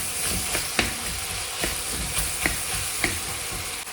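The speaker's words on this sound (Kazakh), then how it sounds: "Пиязды 2-3 минут қуыру жеткілікті" Onions and meat frying in a pan, a steady close sizzle broken by several sharp scraping stirs of the spatula at irregular intervals, with no talk.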